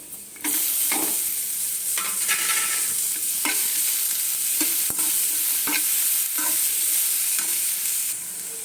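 Green chillies fry in hot oil in a pan, a steady bright sizzle with intermittent stirring scrapes and clinks, close and continuous, with no talking.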